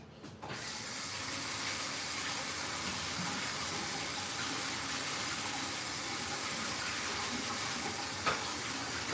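Running tap water rinsing chopped cilantro and parsley outdoors before a steak barbecue, a steady hiss of flowing water with a faint clunk near the end.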